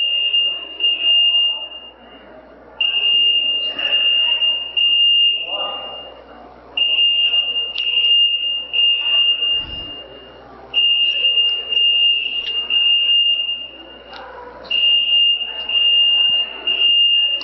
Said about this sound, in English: False alarm.